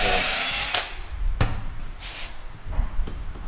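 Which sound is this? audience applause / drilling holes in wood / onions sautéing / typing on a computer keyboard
drilling holes in wood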